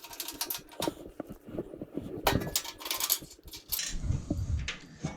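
Small metal parts clicking and clattering as a bolt, washer and nut go onto a Kahuna Sidekick beach fishing wagon, with scattered close taps and rattles and quieter handling in between.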